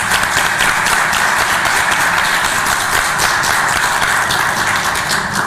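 An audience claps steadily after a request for applause at a book presentation, a dense continuous wash of hand claps from a crowd filling the room at even loudness.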